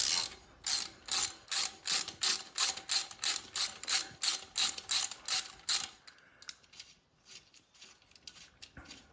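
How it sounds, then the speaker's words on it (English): Ratchet wrench on the single 15mm bolt of an idler pulley during a Chrysler 2.5 water pump replacement: about eighteen quick, evenly spaced clicking bursts, close and loud, then stopping, leaving faint tool handling and quiet shop noise. "So to get this idler pulley off here, it's just a single 15mm bolt."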